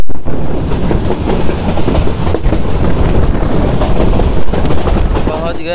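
A meter gauge train runs on rails between Bahraich and Mailani Junction, giving a loud, steady rumble with rhythmic clickety-clack of the wheels heard from on board, filling the whole stretch with no talk.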